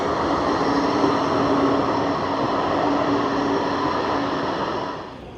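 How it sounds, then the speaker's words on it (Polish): A green number 15 tram in Basel rolls past close by with a steady metallic rumble and squealing rail hum, holding loud before fading slightly at the end, with no voices. "Bazylea to tramwaje. Właśnie jedzie zielona piętnastka."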